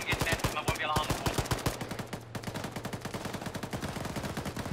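Rapid automatic gunfire in Arma 3, steady bursts of close, loud shots repeating in a fast rhythm with a brief pause near the middle and a voice heard at the start.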